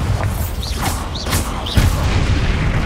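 Spell explosions from Hogwarts Legacy boom in quick succession, with magical whooshing chirps between them and a heavier thud near the middle, loud and close over a rumbling backdrop.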